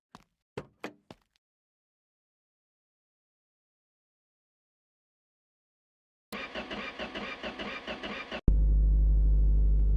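A car engine on a home garage project, run without an exhaust, fires up after a few knocks, then runs loud and rough before settling into a harsh, steady drone.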